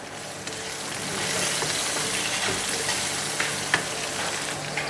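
Garlic and chili frying in a pan of hot oil, making a loud, steady close sizzle with occasional crackles and faint stirring, no voices.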